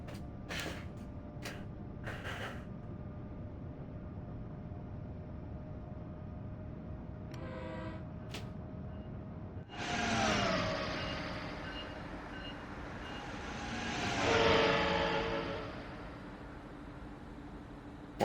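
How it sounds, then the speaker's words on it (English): Horn blasts from an American locomotive in a train simulator game set around New York and Trenton, sounding twice in long swelling blares over a steady low rumble of the train running, with faint beeps earlier. "Something about those American trains, isn't there, with the horns."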